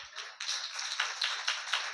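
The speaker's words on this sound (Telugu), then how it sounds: "చప్పట్లు కొట్టండి." An audience claps together at a church youth Christmas service, a dense, steady patter of many hands that swells in a few louder waves over two seconds, with no talking.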